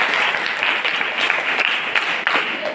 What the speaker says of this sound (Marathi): टाळ्या वाजवते त्यासाठी